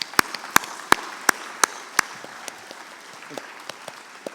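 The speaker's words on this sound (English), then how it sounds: "let's give the high diploma students a big round of applause" Sparse applause at a hotel-school graduation ceremony for high diploma students: a handful of distinct, sharp hand claps ring out clearly at first, then fade into softer, scattered clapping.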